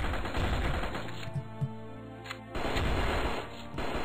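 Gunfire in the video game Strike Force Heroes: dense, rapid volleys of shots fill the start and end, with a thinner lull of scattered single reports in the middle. No one speaks.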